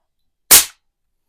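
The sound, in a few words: suppressed Barra 250z .25 caliber air rifle shot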